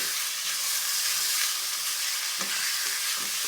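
Steady, crackling sizzle of onions frying in a hot pan, close and continuous with no talking.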